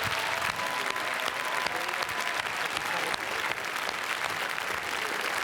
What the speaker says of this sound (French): Écoutez l'ovation du public, regardez le public debout